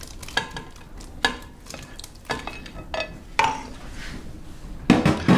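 Browned beef goes back into a pot of reduced red wine and beef stock, giving a series of close, irregular scrapes, clanks and wet stirring sounds over a low simmering sizzle, with a louder clatter near the end.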